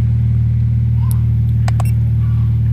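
A cold Toyota Vios type G engine idling high at about 1100 rpm just after starting, giving a steady, loud, close low hum with a few faint clicks over it.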